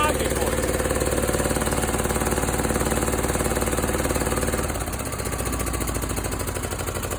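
A John Deere L120 lawn tractor's Briggs & Stratton V-twin engine runs loud and close with a rapid, uneven pulsing chatter, easing slightly in level toward the end.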